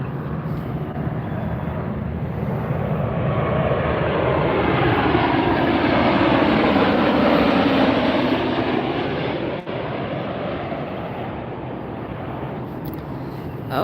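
A jet airliner roars steadily overhead at Las Vegas airport, a loud broadband engine rumble swelling to a peak mid-clip and easing slightly, heard alone without voices.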